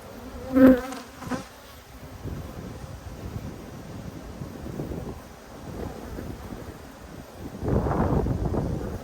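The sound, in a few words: angry honeybees buzzing around an open hive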